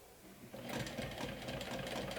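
A sewing machine stitches a glow-in-the-dark backpack, starting with a soft hum that quickly builds into a steady, fast, close mechanical whir, with no talk.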